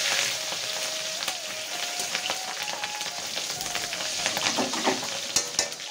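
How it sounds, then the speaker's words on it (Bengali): Fish roe frying in oil crackles and sizzles close up with stirring scrapes and occasional sharper pops and spatters throughout. "ভাজছি এগুলোতে, যাতে গায়ে ছিটে না আসে"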